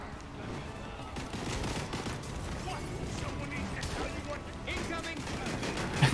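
Rapid gunfire in the Gotham Knights video game Heroic Assault mode, dense and continuous bursts mixed with game effects and crashes, with players talking over it.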